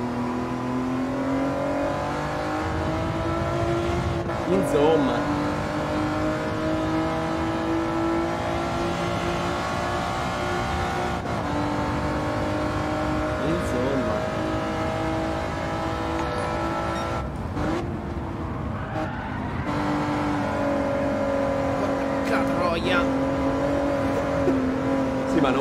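Race car engine in Gran Turismo 7 drones and revs steadily through gear changes, with a few short tire and impact noises, while someone talks quietly over it.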